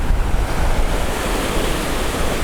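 Sea surf washing steadily onto a beach at Puerto Plata near a city storm-water outlet, a continuous loud broadband wash with wind noise buffeting the microphone throughout.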